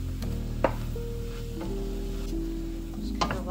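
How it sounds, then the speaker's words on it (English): Mushrooms with Italian seasoning sauté in a soup pot, giving a soft, steady sizzle over a low hum, with a few brief clinks of stirring. "Just kind of let that saute"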